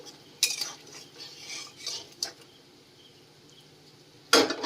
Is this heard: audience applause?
no